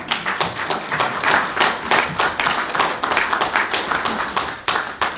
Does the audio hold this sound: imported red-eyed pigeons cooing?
no